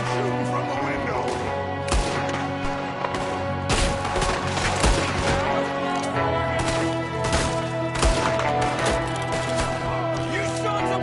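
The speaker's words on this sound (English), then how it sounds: "I'm shooting from the window." Repeated gunshots fired from a window in a Western shootout, sharp cracks recurring every second or two over a dense, loud bed of music and background noise, with voices shouting in between.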